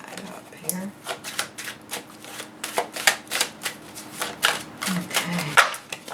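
Tarot cards being shuffled and drawn by hand, a run of quick, crisp riffling flutters and snaps in uneven bursts, close up, with a voice speaking at times between them.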